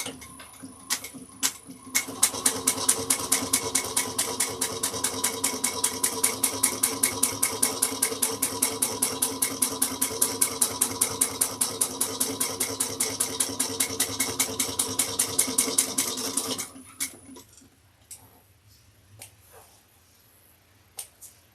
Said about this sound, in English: we're going to top stitch 1/8 of an inch on the top trim